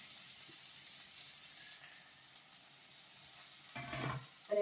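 Onions and green chillies sizzle in a hot pan, a steady soft hiss throughout with a brief louder burst of crackle near the end.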